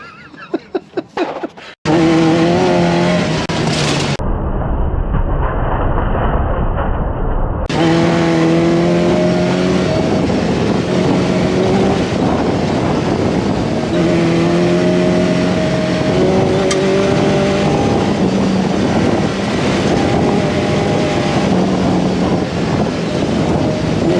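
A Baja 1000 Challenge race car drives hard off-road, its engine droning loudly with rising and falling gear tones through wind buffeting, after a brief burst of clicks and a cut at the start.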